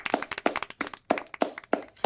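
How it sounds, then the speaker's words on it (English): Scattered hand claps for an award winner at an online awards show, close and irregular, a dozen or so sharp slaps over two seconds with no talk. "Clap for Fish Time, everybody."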